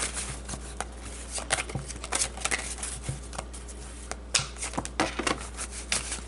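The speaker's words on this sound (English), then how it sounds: "I am having a hard time shuffling." Tarot cards are shuffled in hand, producing a series of crisp riffling and slapping bursts at an uneven rhythm, close and fairly quiet over a low steady hum.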